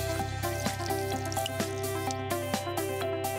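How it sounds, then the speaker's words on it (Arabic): Water drips from a squeezed sanitary pad, a string of distinct quick drops falling at an irregular rhythm over a soft background bed of music. "وإذا أخذنا براند إكس وعصرناه حنشوف كيف المي عم ينزل من الفوطة"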